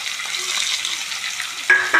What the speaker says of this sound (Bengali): রসুন একটু ভাজা ভাজা হলে পেঁয়াজগুলো দিয়ে দিলাম